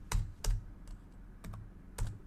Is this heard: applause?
no